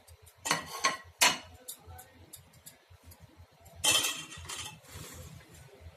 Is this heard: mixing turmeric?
yes